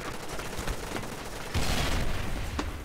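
Bursts of rapid video game gunfire crackle in quick succession, growing louder and denser partway through.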